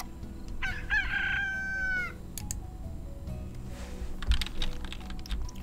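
A rooster crows in the farm-ranch video game Slime Rancher, a clear stretched cock-a-doodle call near the start, followed by clattering keyboard typing and clicks with no talking.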